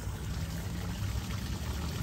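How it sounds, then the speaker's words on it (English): Water rushes through a freshly shoveled, widened drain passage beside a house during a pressure-washing job, a steady, dense splashing flow that stays even and fairly loud throughout. "We got nice water flow."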